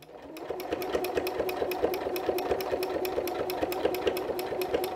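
A quilting machine stitches a meander pattern across a quilt, running in a steady, fast mechanical rhythm of needle strokes with a continuous motor hum, close and fairly loud, with no talking.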